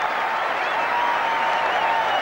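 Cricket crowd at a one-day domestic match roaring and applauding a big six, a dense sustained wash of cheering and clapping that holds steady throughout.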